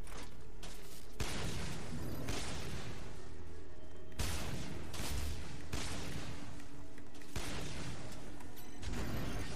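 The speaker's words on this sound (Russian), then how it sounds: "Можно завалить с одного выстрела." Gunfire and explosions from the sci-fi shooter video game Section 8: Prejudice, loud overlapping bursts and booms repeating at irregular intervals with a steady mechanical background.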